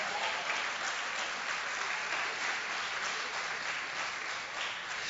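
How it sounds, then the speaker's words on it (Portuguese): A church congregation applauds Jesus during a sermon, steady sustained clapping from a large crowd filling the whole stretch, loud and even with no talk over it. "Você pode aplaudir a Jesus?"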